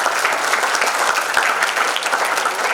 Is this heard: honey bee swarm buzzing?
no